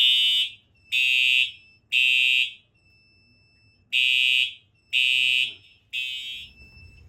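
Fire alarm system sounding during a test, loud electronic horn blasts in a repeating pattern of about six bursts with short gaps, near and without talk.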